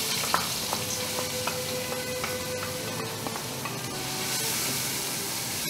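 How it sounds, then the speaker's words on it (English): Onions sautéing in a pan for Kapampangan tamales give a steady, even sizzle throughout, broken by light regular taps and scrapes of a stirring utensil; nobody speaks. "So we will saute until soft, until transparent"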